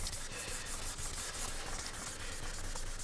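Hand wet sanding of a Yamaha FZR motorcycle fairing during a restoration gives a soft, steady scratchy rubbing with even back-and-forth strokes, faint and close, with no talking.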